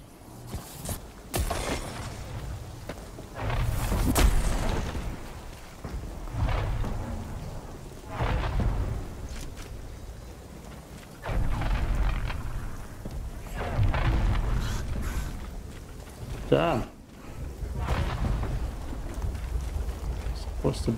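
A rainy thunderstorm in The Cycle Frontier on Bright Sands, with a steady wash of rain and deep rumbling swells rolling in and out, while people talk over it.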